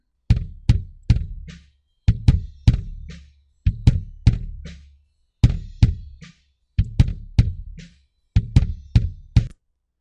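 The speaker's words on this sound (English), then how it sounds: "I heard this rattling sound on the kick drum" Recorded kick drum hits played in short repeated groups, each deep thump followed by a faint rattling buzz, with clean silence between the patterns.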